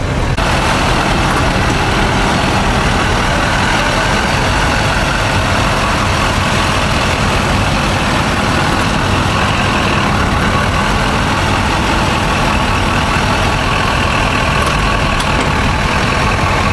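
A lifted 2022 Chevrolet Silverado 2500 pickup idles nearby, its engine giving a constant, loud, unbroken rumble with no voices over it.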